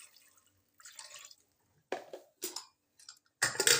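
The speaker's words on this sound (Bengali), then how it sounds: "এবারে জল দিয়ে দিচ্ছি" Water poured into a pressure cooker holding 600 grams of washed sweet potatoes comes in a few short, close splashing bursts separated by brief pauses, with no talk.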